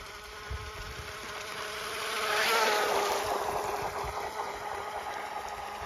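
A JetStepper Prototype IV model jet boat with a low Kv 2030 motor whines across the water, its buzzing electric drone swelling as it passes nearest, then continuing steadily at moderate distance.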